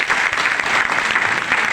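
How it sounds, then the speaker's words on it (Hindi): An audience at a direct-selling business seminar claps loudly for a company founder, a dense, sustained roar of hands at close range with no pause. "एक जोरदार तालियां चाहती हूँ टीसी छाबड़ा सर के लिए"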